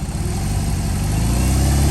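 BMW R18 motorcycle's boxer twin under throttle, a deep pulsing engine rumble that builds steadily louder over a couple of seconds, close and alone with no talk.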